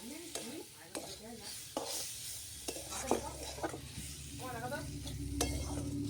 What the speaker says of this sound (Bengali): মশলাটা কষিয়ে নেবো সুন্দর করে।